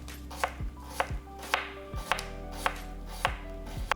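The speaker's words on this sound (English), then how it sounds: "Peel it, cut into small pieces." A knife chops two fresh, peeled, medium beetroots into small pieces on a board, giving about a dozen crisp, evenly paced thuds close up with no voices.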